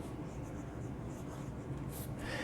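Fine nib of a Moonman M6 fountain pen writing on paper, a soft continuous scratchy glide that stays faint and close throughout with no talking.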